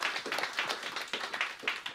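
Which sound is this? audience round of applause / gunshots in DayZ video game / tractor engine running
audience round of applause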